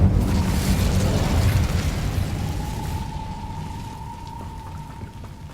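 Incendio fire spell cast in Hogwarts Legacy, a loud whooshing burst of crackling flame that fades gradually over several seconds, leaving a faint lingering hum.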